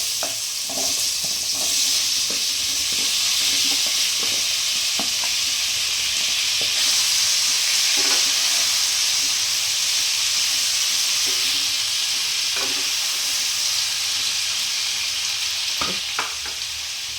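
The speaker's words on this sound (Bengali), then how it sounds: "এরপর আমি কুমড়োটা ছেড়ে দেবো।" Pumpkin pieces fry with a constant loud sizzle while a utensil scrapes and taps the pan at irregular intervals, close and without voices.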